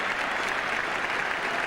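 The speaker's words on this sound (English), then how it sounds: "the applause around the ground also for this 100 partnership" A cricket crowd at Lord's, at the 1979 England v Australia World Cup one-day match, claps steadily around the ground: a dense, sustained wash of applause from a large audience, heard at a distance.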